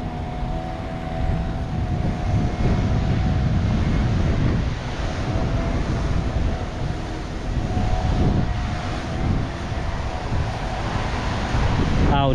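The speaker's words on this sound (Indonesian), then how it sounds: "angin terasa bertiup cukup kencang." Strong wind buffets the microphone on a rugged beach at Gunung Butak in Wonogiri, roaring steadily with surf churning underneath for the whole stretch, loud and close with no one talking.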